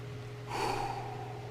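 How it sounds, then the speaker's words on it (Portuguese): One deep inhalation and exhalation, a single loud rushing breath partway through, taken as a breathing exercise during a talk, with a steady low hum underneath. "vamos dar umas belas respiradas, umas 3 belas respiradas"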